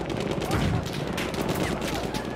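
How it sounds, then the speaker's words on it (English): Enemy machine gun fire in Battlefield 1 on the Giant's Shadow map, a dense, continuous rattle of rapid shots filling the battle soundscape without a break. "Enemy machine gun"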